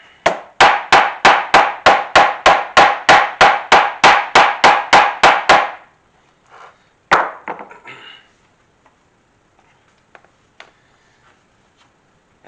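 A hammer strikes rivets into a leather guitar strap in a fast, even run of about twenty sharp, loud knocks. After a pause come a couple of scattered taps, then quiet.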